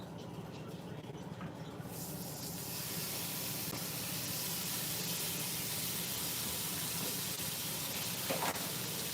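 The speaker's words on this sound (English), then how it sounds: "I'm just adding my first piece of bacon to my cast iron skillet" Bacon sizzles in a hot cast iron skillet on medium heat, a steady close hiss and crackle that starts suddenly and holds loud, with no talking.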